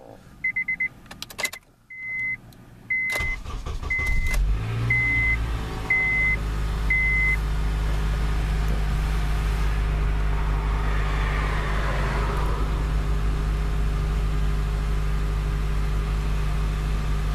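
2005 Honda Accord LX sounding a run of short chime beeps, then a brief starter crank that catches into a steady, low engine idle continuing close and alone.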